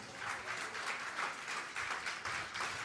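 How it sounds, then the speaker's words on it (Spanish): A church congregation claps together in steady applause, a dense even wash of many hands at moderate distance with no voices over it. "Denle un aplauso si eso es verdad entonces."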